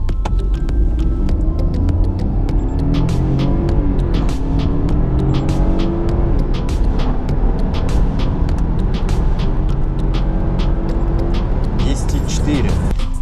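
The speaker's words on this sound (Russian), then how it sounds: "Правой ногой нажимаю на педаль тормоза, резко переставляю на педаль газа до упора" A BMW F30 318i with 136 hp accelerates from 0 to 100 at full throttle, its engine note climbing in rising harmonic sweeps through several gear changes. Heard from inside the car, the drone is loud and continuous.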